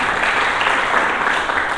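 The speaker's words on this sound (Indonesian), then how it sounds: "Mari kita berikan tepuk tangan bagi Yesus Tuhan." A church congregation bursts into dense, sustained applause, many hands clapping together in a loud, even roar.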